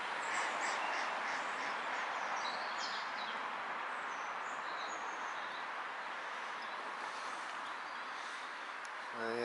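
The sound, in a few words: birds and ducks calling outdoors at sunset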